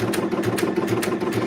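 Sewing machine stitching a triangle in fabric, a fast, even mechanical chatter of the needle with a steady motor hum underneath, close and clear.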